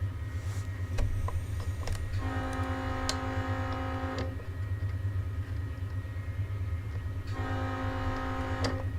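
Train horn in the Run8 Train Simulator game sounds in two sustained blasts, one long and one shorter, over a steady low rumble of rolling railcars.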